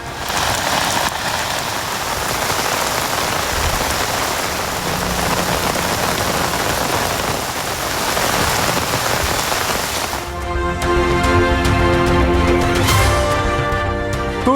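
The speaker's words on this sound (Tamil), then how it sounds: "தூத்துக்குடியில் இரவு முழுவதும் கொட்டி தீர்த்த கனமழை" Heavy overnight rain in Thoothukudi, Tamil Nadu, a dense, loud, continuous hiss of rain on surfaces, with music taking over for the last few seconds.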